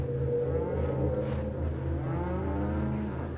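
Cattle mooing in the Gamecube video game Resident Evil 4, long low drawn-out moos from nearby animals layered over a steady droning rumble, continuous and moderately loud throughout.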